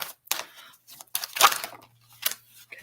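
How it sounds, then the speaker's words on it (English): Tarot cards being shuffled by hand, giving short papery riffles and flicks in irregular bursts separated by quiet gaps, close and moderately soft. "Okay, we're going to stop shuffling."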